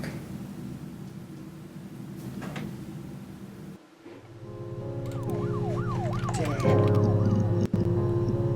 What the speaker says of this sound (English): Did I just hear a siren come from the game?